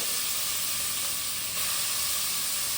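Chopped bottle gourd frying in a hot pan, a steady loud close sizzle and hiss running throughout without pause, no talking.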